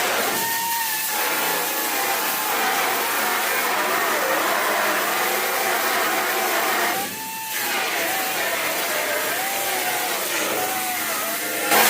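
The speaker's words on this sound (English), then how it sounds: "So I'm going to take a belt sander, sand all the inside of that down really good" A belt sander grinds steadily across the inside of a rotted car roof panel, a continuous loud whirring rasp with a wavering pitch, briefly dipping around the seven-second mark before resuming, with no talk over it.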